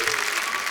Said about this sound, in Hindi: जोरदार तालियां हमारे दोस्तों के लिए